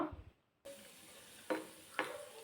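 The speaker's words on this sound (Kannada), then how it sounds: "ದ್ರಾಕ್ಷಿ ಎಲ್ಲ ಫ್ರೈ ಆಗಿದೆ ಗೋಡಂಬಿ ಸ್ವಲ್ಪ ಫ್ರೈ ಆಗಬೇಕು" Raisins and cashews frying in oil and ghee, a soft steady sizzle with a couple of brief stirring scrapes, close and quiet, with no voices.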